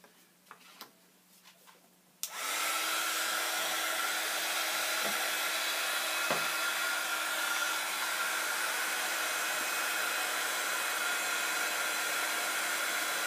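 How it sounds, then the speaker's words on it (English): A heat gun blows steadily and loudly while heat embossing leaves on vellum, starting abruptly after a few soft taps and running as an unbroken whoosh to the end. "I'm going to go back and I'm going to heat emboss those 3 leaves."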